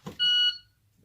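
A single short electronic shot-timer beep, clear and steady for about a third of a second, during a seated appendix dry-fire draw with a Glock 19 Gen 4, preceded by a faint brief rustle.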